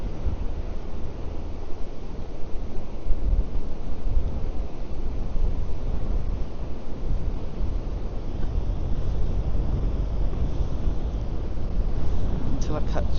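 Strong wind at a beach buffets the microphone, a steady loud low rumble with roaring gusts that runs without a break from start to finish.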